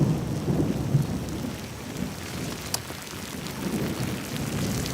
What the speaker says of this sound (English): OK, you can cut the rain.